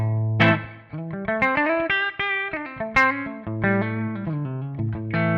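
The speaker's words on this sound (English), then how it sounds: "So here we have the clean tone now, back on the bridge humbucker." A clean electric guitar on the bridge humbucker plays a flowing melody of sustained, ringing notes, one phrase after another, up close and without any voices.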